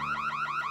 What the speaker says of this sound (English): Who set that alarm off?